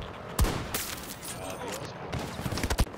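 Gunfire in the shooter video game Battlefield 2042, sharp close shots and bursts at irregular intervals over a busy battle din, with a voice talking underneath.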